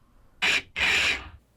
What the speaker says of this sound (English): Add in some lizardy big hisses into it.